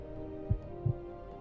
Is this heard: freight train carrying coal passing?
no